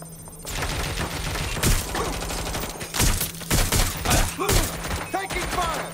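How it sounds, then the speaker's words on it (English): Gunfire in the video game Watch Dogs Legion, with sharp bursts of shots cracking over a dense, busy battle mix, several loud volleys standing out near the middle and end. "Taking fire. Trouble here. Finding cover."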